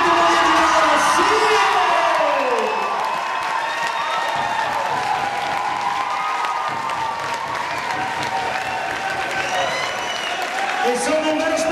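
An audience applauding and cheering at a stage show, dense sustained clapping with whoops and yells, while an amplified voice talks over the crowd throughout.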